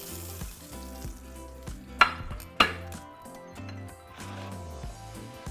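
Meat for chile verde browns in a pan with a soft continuous sizzle, punctuated by two sharp utensil clanks, over quiet background music.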